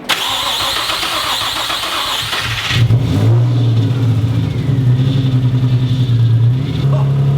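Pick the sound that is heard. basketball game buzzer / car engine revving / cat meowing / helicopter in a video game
car engine revving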